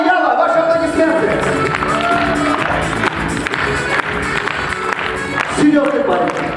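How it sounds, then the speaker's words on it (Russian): Audience applause and cheering at a humorous International Women's Day congratulation contest, steady dense clapping with crowd noise throughout, with some talk mixed in over the top. "Родриго Перес де Аяла, ваши аплодисменты."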